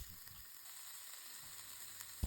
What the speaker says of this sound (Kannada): ಇದನ್ನು ಸಣ್ಣ ಉರಿಯಲ್ಲಿ ಈ ಥರ ಸ್ವಲ್ಪ ಬೇಯುವಷ್ಟು ಫ್ರೈ ಮಾಡ್ಕೊಳ್ಳಿ